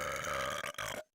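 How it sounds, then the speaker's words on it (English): A long, loud synthesized burp from the Grossology Windows 3.1 game, holding a steady droning tone for about a second before cutting off cleanly into silence. "did you know that everyone burps?"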